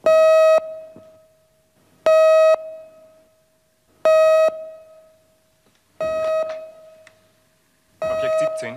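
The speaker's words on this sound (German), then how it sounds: "Wir haben Alarm für Objekt 17." A police station alarm sounds in repeated electronic tones, five loud sustained bursts about two seconds apart with brief gaps between, the later ones slightly rougher.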